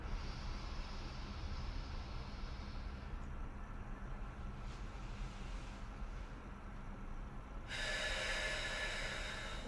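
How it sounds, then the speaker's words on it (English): Slow, deep breaths drawn in and released during a lower back pain exercise, a long steady airy rush up close with a shift partway through, with no talking. "Take a breath in."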